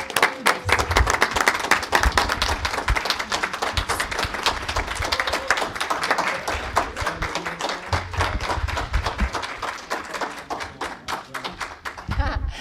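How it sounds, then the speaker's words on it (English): A city council candidate forum audience gives a round of applause for the at-large candidates. Dense, loud clapping fills the room throughout, with a few voices mixed in. "Can we have a round of applause for all the candidates?"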